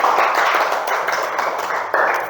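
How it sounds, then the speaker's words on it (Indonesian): Children in a second-grade classroom applauding together, a dense, steady burst of many small hands clapping close by for a couple of seconds. "Kasih tepuk tangan dulu buat teman-teman."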